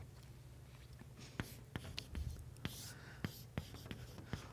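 Chalk taps and scratches on a board during a mathematics lecture, in a series of short, sharp clicks spread unevenly against a quiet, murmuring room.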